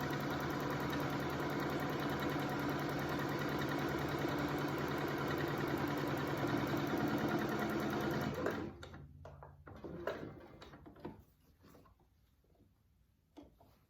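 A sewing machine stitches a fabric face mask with elastic, running in a loud steady whir for about eight seconds, then stopping and giving way to short bursts of handling and clicks.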